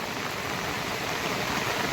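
Heavy monsoon rain pours steadily over flooded streets in Kuhe Chimbipada, Bhiwandi, a dense, unbroken hiss of water that stays loud and even throughout.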